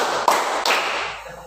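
A classroom of students claps together in unison on a teacher's count, two sharp group claps ringing out close and loud, followed by a scattered trailing clatter of hands.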